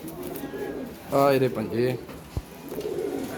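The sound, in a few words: pigeons cooing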